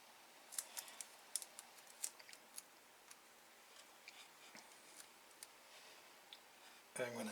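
Scissors trim the edges of an Atari 2600 game label in a series of small, crisp snips close up, irregularly spaced against a quiet background, with a louder rustle at the very end.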